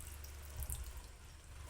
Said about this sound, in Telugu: ఈ మిక్సీ కడుక్కున్న వాటర్ కూడా వేసేసుకుందామండి.